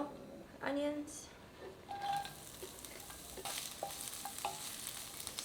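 Onions hiss and sizzle in hot olive oil with stirring scrapes, a soft continuous fry under occasional clinks and nearby kitchen noises.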